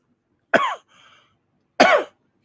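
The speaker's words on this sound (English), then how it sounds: "Week 4, he started coughing. Wet, deep," A voice acts out deep, wet coughing: two separate harsh coughs over about a second and a half, close and loud, with a quieter rasp between them.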